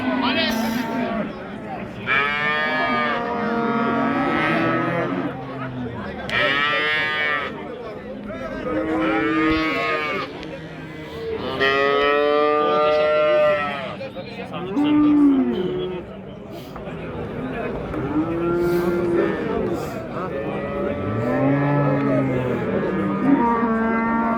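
Cattle at a livestock bazaar in Gurumsaroy moo loudly and repeatedly, long drawn-out bellows from several cows near and far overlapping amid the market's constant background din.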